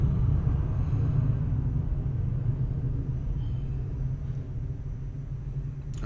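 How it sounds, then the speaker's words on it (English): A propeller or jet airplane passes overhead somewhere in the background at a card game event, heard as a steady low rumble that holds throughout and eases slightly toward the end. "As you can hear in the background, it's a plane"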